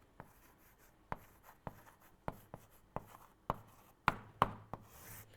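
Chalk or marker strokes on a board as a chemical equation is written: a sparse series of sharp taps and short scratchy rubs, irregularly spaced and close, bunching up toward the end with no talking.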